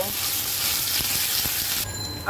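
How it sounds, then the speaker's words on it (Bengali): Ginger and garlic paste sizzles steadily in hot oil in a pan, a continuous close frying hiss with faint stirring scrapes, no one speaking. "আদা বাটা আর রসুনটাকে সুন্দর করে ভেজে নেব।"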